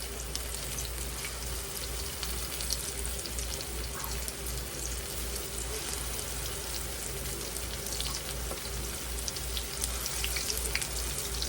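Squash pups frying in very hot grease in a pan, a dense, steady crackling sizzle with scattered pops, close and continuous throughout with no voices.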